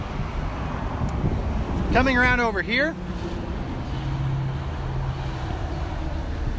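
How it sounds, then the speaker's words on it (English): Steady road traffic roar from the nearby I-40 interstate sits under someone talking as he walks around a parked 2021 Forest River Vengeance Rogue Armored toy hauler fifth wheel. "Pardon any road noise, we're right next to the I-40."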